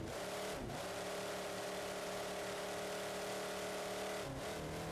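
Steady monster truck engine in BeamNG.Drive, a tuned 1050 hp build, holding a high even drone with brief dips as gears shift, close and continuous with no talk.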